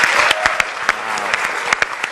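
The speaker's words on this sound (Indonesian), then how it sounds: "Tepuk tangan untuk kalian semua dong" Studio audience applause at an Indonesian political talk show, a dense steady patter of many hands with several sharper claps standing out, sustained throughout without talk.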